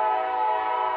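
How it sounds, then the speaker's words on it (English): A train horn blares in one loud, steady, sustained tone as the train passes close by, with no voices. "You think I make that train come, huh?"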